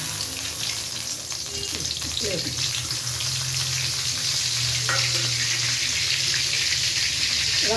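Bay leaves, fennel, cinnamon, star anise and cardamom frying in hot oil for mutton curry, a loud close crackling sizzle running steadily, with a few soft stirring scrapes.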